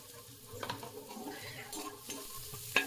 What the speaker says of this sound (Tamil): ஸோ ஸ்ட்ரெயிட்டாக வெங்காயம் போட்டு வதக்கலாம்